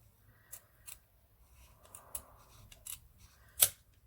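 Scissors snip through 3-inch ribbon while making a curved cup hair bow, a few short crisp cuts spread across a quiet background, the last one loudest and closest.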